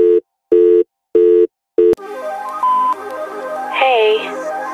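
Phone call signal on a call that goes unanswered: four evenly spaced electronic beeps, each cut off sharply, followed by a softer, noisier stretch of tones and background sound.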